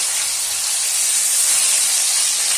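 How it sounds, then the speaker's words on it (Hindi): Fish sizzles in hot oil in a pan while cooking a fish curry, giving a loud, continuous, close hiss with no break. "सारे मछली को हम इसी तरह फ्राई कर लेंगे।"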